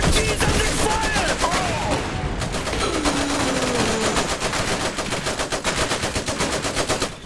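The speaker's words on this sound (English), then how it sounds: "Our MG's under fire!" Machine guns rattle continuously in the strategy game Iron Harvest, dense rapid bursts with overlapping shots and explosions, loud and sustained, while faint in-game voices sound beneath.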